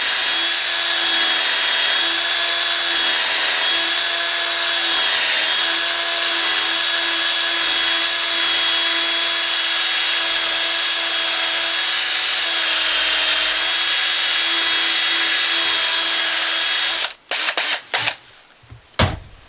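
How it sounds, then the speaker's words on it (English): A drill bit boring into heart pine wood, a steady high whine held for about seventeen seconds before it cuts off, followed by a few short bumps and knocks. "I got my hole started, drilled in with my drill bit"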